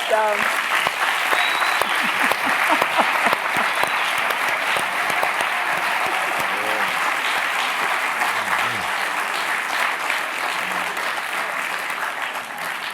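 An audience at a launch event for a documentary on Black America bursts into loud, sustained applause, dense clapping that holds steady for several seconds before slowly easing, with a few voices mixed in.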